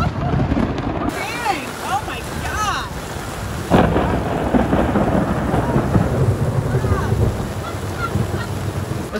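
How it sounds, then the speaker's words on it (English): Thunder rumbles during a heavy wet-season downpour at Lake Atitlán in Guatemala, a loud low roll over steady rain, with honking geese or fowl and people talking nearby. "And we've had some crazy lightning and thunder too."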